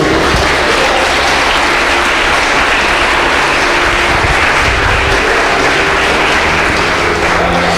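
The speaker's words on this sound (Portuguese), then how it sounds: "Se você crê nisso, aplaude o nome do Senhor." Church congregation applauding during a sermon, a loud, dense, unbroken wall of clapping that fills the room evenly for nearly eight seconds.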